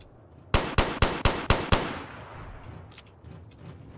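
Six sharp gunshots from Fallout New Vegas fire in quick succession, loud and close, each with a short ringing tail, before a quieter ambient stretch with a faint metallic clink.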